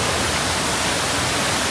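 The rushing water of Bangara Kusuma Falls near Gerusoppa, Honnavar, makes a brief, dense, unchanging roar that fills the whole moment, loud and close.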